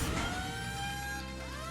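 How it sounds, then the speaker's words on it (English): A siren wails in the strategy game Dark Moon, a steady electronic tone slowly sliding in pitch over a low droning hum, continuous and fairly quiet with no talking. "that's a siren going off."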